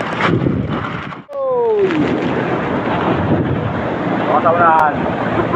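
Rough, whitecapped sea with strong wind buffeting a fishing boat: loud continuous roar and rushing water, heavy wind noise on the microphone, with a short tonal squeal and brief voices partly audible.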